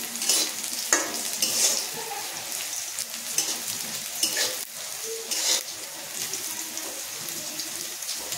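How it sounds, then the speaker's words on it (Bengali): Greens with onion and potato being stir-fried in a pan on a rainy day: a continuous close sizzle broken by irregular scraping, stirring strokes, with no voices. "এখন শাক ভাজা হবে"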